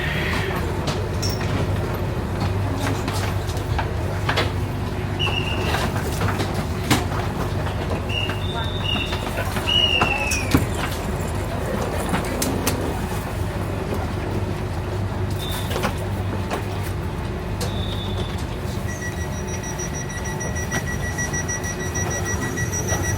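An airport rail link train in Bangkok stands at its final station, with a steady low rumble and hum from the carriages, occasional clicks and electronic beeps, and muffled voices in the background.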